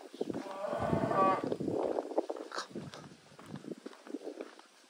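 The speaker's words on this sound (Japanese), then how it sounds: "あ、牛さんだ、牛さん。" A cow moos in a long, drawn-out low call outdoors on a small island, followed by quieter rustling and soft shuffling noises nearby, with no talk over it.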